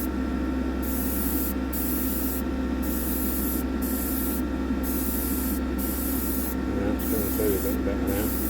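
Kaleido Colorworks spray paint hisses in short light bursts onto a diecast vehicle, several quick sprays with brief gaps over a steady low hum, close and fairly loud.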